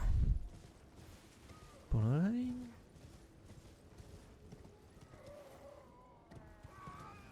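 A horse called Torrent in the video game Elden Ring, heard as a brief loud burst of hoofbeats and a whinny near the start, then a quieter game soundscape.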